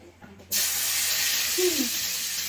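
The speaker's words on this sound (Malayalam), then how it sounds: "എണ്ണയ്ക്കകത്തോട് നമുക്ക് കുറച്ച് തേങ്ങാപ്പാൽ ഒഴിച്ച് കൊടുക്കും." Coconut milk hits hot frying oil for pearl spot fish fry, setting off an abrupt, loud, steady sizzling hiss that starts suddenly after a quiet moment and carries on without pause.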